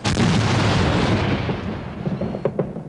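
Quick-firing artillery lets off a heavy booming blast that rolls and rumbles away, followed by a few smaller distant thuds and pops, with no voices.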